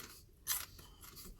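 Single crisp crunch of a bite into a raw celery stick, fairly close and brief, with quiet room noise around it and no talking.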